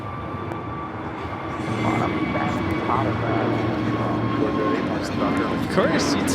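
An Avianca Airbus A320neo bound for San Salvador rolls down the LAX runway, its jet engines a steady, moderately distant roar with tonal whine, while people talk nearby over it.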